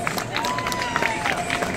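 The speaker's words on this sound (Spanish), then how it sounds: "un aplauso para Emma" Crowd applause and cheering at an outdoor prize-giving for a Christmas road race in Segovia, steady dense clapping with scattered shouts and a whistle-like rising tone, voices mixed in throughout.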